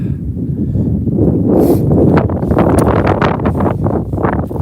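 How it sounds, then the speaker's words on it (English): Wind on a hill beside a golf course, a loud, low, continuous rumble buffeting the microphone with slight rises and falls for several seconds, with no talking. "it might be a little bit windy up here"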